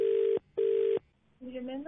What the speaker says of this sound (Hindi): मिला फोन